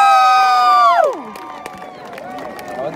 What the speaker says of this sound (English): They're ready to scream for both.